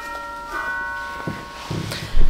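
A doorbell chimes indoors with steady ringing tones, followed by a few knocks and a door sliding, ending on a louder thump.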